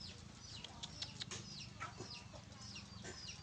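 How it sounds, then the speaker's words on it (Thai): Chickens fighting around a rural Thai home, a scuffle of clucks and squawks from several fowl at a moderate distance over steady outdoor background noise, with no talk. "ไก่สิตีกันนะครับเมองครับมันสิตีกันครับพี่น้อง"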